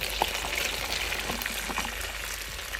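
Oil sizzles and crackles steadily in a hot pan for a stir fry, a dense, even frying hiss with small pops throughout and no voices.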